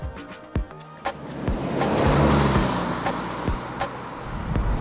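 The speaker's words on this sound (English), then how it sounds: "To begin the test, I'm driving the Bridgestone Potenza RE980AS." Car rolling on Bridgestone Potenza RE980AS ultra high performance all-season tires, a steady road and tire roar that swells in the middle, with a few sharp clicks and knocks scattered through.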